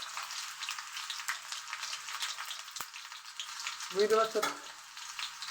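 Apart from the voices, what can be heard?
garlic frying in a pan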